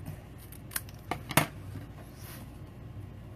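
Scissors trimming a paper pumpkin craft piece, a few quick close snips clustered together, the last one sharpest, against a quiet room.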